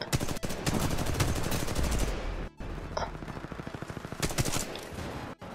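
Rapid automatic gunfire in the video game Titanfall 2, loud dense bursts rattling almost continuously, with a brief pause midway and a few louder single cracks near the end.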